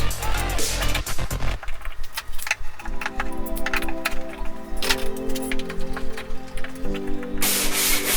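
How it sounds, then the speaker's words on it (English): Wooden planks for a cutting board being sanded, giving repeated rough rubbing strokes at close range over steady tonal background music, with no speech. "I sanded down everything, even used the planer at times"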